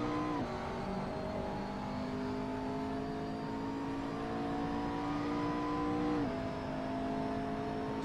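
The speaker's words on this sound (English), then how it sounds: "That Mercedes is going to overtake me down here" A Mercedes race car in Assetto Corsa holds a steady, buzzing engine whine with a couple of sharp gear-shift drops in pitch, continuous and fairly close, with no talk.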